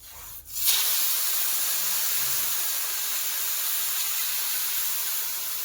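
Water is poured into a hot cooking pot while making village-style desi khiro, opening with a sudden loud hiss that settles into a steady, sustained steaming rush up close, with no talking.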